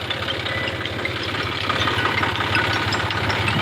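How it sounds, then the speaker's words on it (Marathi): A municipal council tractor engine idles close by, a steady low chugging rumble with a constant knock and no breaks. "हा समोर एक ट्रॅक्टर आहे नगरपंचायतीचा"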